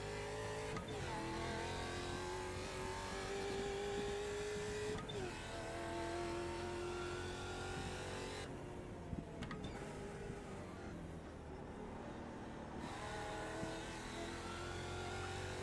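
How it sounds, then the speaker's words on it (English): A Ford Mustang race car from the American Muscle Series rounds Sandown in a racing video game, its loud engine holding steady, with revs climbing and dropping through shifts and a braking dip midway, and no voice over it. "So you just have to do very light trail braking through there, and then it'll get the Mustang rotated."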